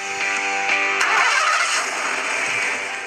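Supercharged Ford Mustang Cobra engine cranking and catching, a loud continuous mechanical roar with a bright whine on top, heard close and alone without talking.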